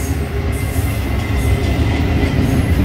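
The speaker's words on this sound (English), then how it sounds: "I believe the trains have to go a little slower through here." Westbound BNSF intermodal freight train rolling slowly through Whitefish, Montana, a loud, close, continuous rumble of cars and wheels with faint squeals and rhythmic clatter.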